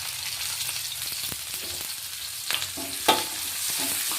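Onion frying in hot oil with cumin, mustard seeds, garlic and green chilies gives a steady close sizzle, with occasional scraping stirs and small pops.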